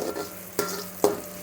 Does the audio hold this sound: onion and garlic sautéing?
yes